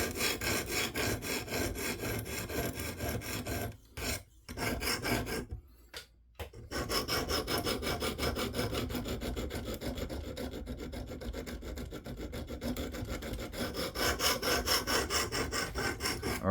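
Rhythmic rasping strokes of a Knafs Lander 4 knife edge drawn across a KME guided sharpening stone, steady and close, with two short pauses between passes.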